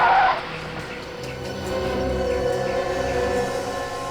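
A truck pulls up and stops, a brief tire squeal at the start followed by a sustained engine rumble and rolling road noise, fairly loud and close.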